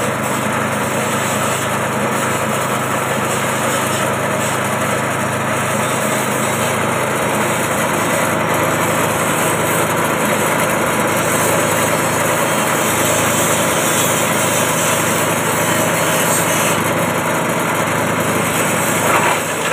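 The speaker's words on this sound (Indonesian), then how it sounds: "kita akan mencoba yang untuk mesin giling ya" A 3-in-1 pellet, grass chopper and flour grinding machine runs continuously in its grinding mode, giving a loud, steady, close-up mechanical whine and rattle with no pauses and no voices.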